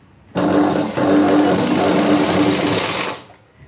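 A sewing machine stitches a petticoat in one loud, close, steady whirring run of about three seconds, starting abruptly, pausing briefly near the start and then winding down.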